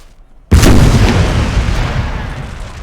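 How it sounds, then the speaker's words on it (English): An 8-pounder guard artillery piece fires in Napoleon Total War, one sudden loud boom after a moment of near silence, followed by a long rolling, decaying rumble. "That's 8-pounder there, blowing holes into some into some British lines."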